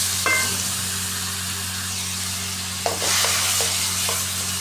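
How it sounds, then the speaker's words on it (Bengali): Shrimp stirred and fried in a pan with turmeric, a bright continuous sizzle up close, punctuated by several quick scraping strokes of a spatula toward the end, with no voices. "চিংড়ি মাছটা দিয়ে নেড়ে চেড়ে নেব সুন্দরভাবে।"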